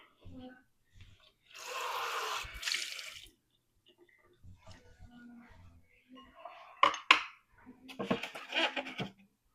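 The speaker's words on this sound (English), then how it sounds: "I'm going to rinse this out because there's shell in it." Running water rinses bits of eggshell out of a kitchen bowl in a soft gush of a second or so, followed by quieter splashes and clinks near the end.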